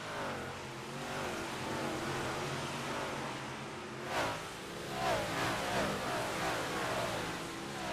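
Race cars circle an oval track in a steady, dense engine drone, with a louder car sweeping past partway through and the roar building again after.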